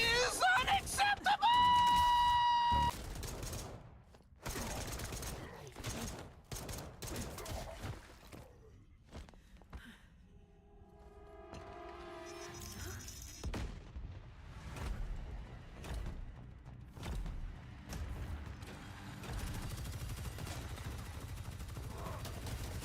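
Rapid gunfire bursts from a Gatling gun in a video game, loud crackling volleys early on, then scattered shots and noisy combat sounds, with voices and game effects mixed in.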